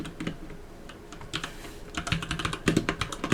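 Rapid typing on a computer keyboard during an online game, clustered key clicks starting sparse and growing quicker and louder toward the end, close and alone without voices.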